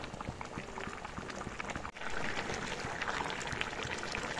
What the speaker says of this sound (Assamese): এয়া দেখিছেনে আঞ্জাখন উতলিব ধৰিছে